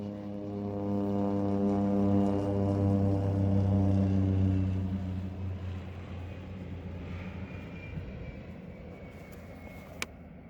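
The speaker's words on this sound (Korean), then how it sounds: "경비행기도 있다" A floatplane, a light aircraft in Vancouver harbour, drones with a loud steady harmonic engine tone that gradually fades and blurs as it moves away, leaving softer rumble and a brief sharp click near the end.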